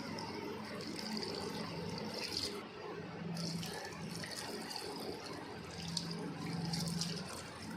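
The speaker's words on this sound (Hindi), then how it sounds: "अब हम इसमें 2 गिलास पानी शामिल करेंगे।" Water pours steadily into a cooking pot of spices, a continuous splashing pour with a faint low hum underneath, fairly close.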